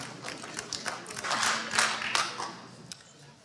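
Applause from an audience at a Linn County, Kansas public meeting: a scattered patter of hand claps that swells into a fuller burst midway, then thins out, with a faint voice underneath.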